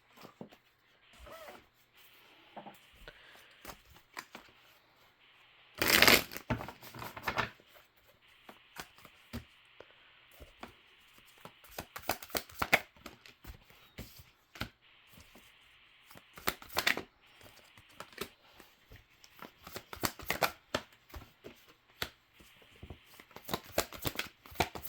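A deck of cards shuffled close by, with repeated soft riffles and papery snaps in uneven bursts, one louder flurry early on and quiet stretches between, with no talking.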